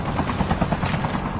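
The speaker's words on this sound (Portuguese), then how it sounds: "Helicóptero." A video game helicopter's rotor thumps in a fast, steady chop, loud and close, with a busy rumbling din around it.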